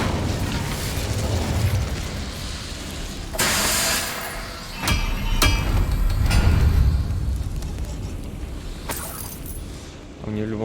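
In Hogwarts Legacy, an Incendio fire spell goes off as several loud, sharp bursts and booms over a constant rumble of game sound.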